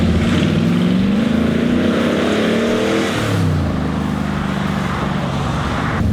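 The 1968 Ford XT's engine revs up and eases off near the car, with a loud, rough rising and falling growl and no voices.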